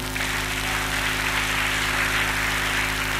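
Church congregation applause acclaiming the Lord, a steady dense wash of clapping over a constant low hum, sustained and fairly loud throughout.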